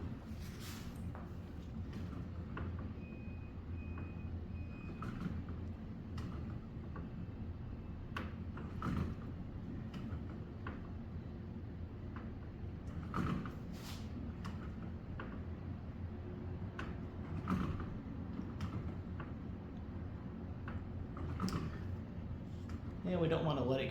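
A juniper wood bow being flexed on a tillering tree gives off repeated creaks and clicks in irregular bursts over a steady low background hum.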